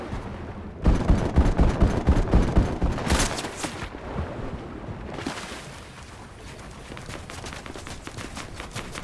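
Rapid bursts of video game gunfire crackle loudly in a dense volley over the first few seconds, then scattered shots and a lingering hiss trail off into quieter background noise.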